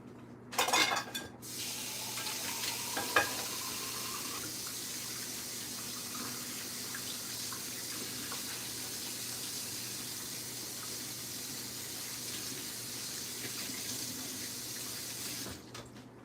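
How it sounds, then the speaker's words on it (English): Tap water runs steadily into a kitchen sink as hands are washed, a near, continuous rushing splash that starts with a brief clatter and cuts off at the end. "go wash my hands real quick"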